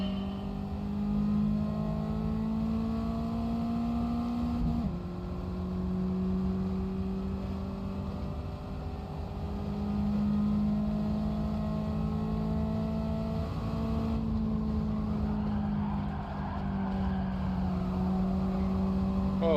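Car engine in Gran Turismo 7 held at high revs while sliding with oversteer, a steady droning buzz that shifts pitch with each throttle change and gear shift, heard alone and fairly close.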